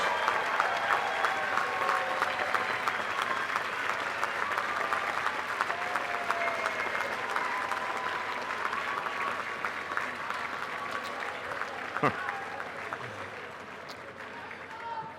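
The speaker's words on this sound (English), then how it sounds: "Give your parents and family members a big, big round of applause." A commencement audience at Saint Joseph's University applauds graduates' parents and families, a broad, steady wash of clapping that fills the hall and fades slightly toward the end, with faint voices mixed in.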